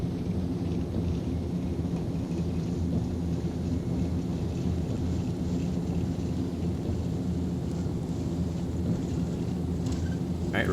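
Thunderstorm with steady heavy rain in the X-Plane 11 flight simulator around a Fokker 50 turboprop at San Jose, a constant low rumbling roar and rain wash throughout, fairly even and continuous with no speech.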